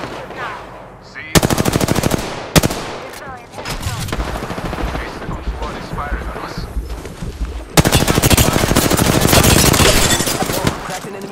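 Rapid automatic gunfire from the video game Apex Legends rattles loudly and close in long sustained bursts, with short pauses and single shots between them, and game voice lines talk over it.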